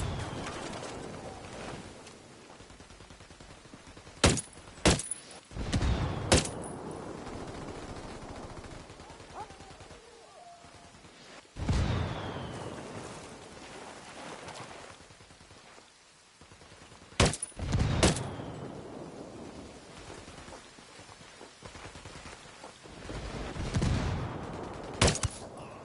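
Bursts of gunfire ring out from a camp entrance in Ghost Recon Wildlands, with several sharp volleys and single shots spread across the clip over steady ambient background, birds cooing faintly in the gaps.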